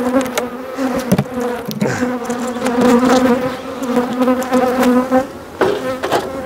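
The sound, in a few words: bees buzzing at hive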